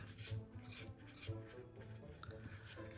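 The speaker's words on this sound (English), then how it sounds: "Get another stick. Mix that up. Scrape my edges." Resin scraped and stirred in a cup with a mixing stick, a close, faint, continuous rasping rub with repeated strokes and no voices.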